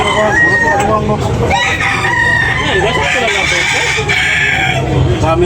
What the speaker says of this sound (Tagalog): Guwapong manok.